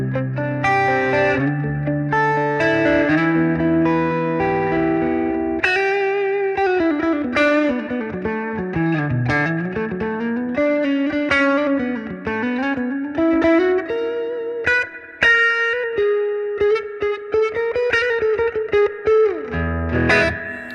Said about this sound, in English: let's check out the reverb now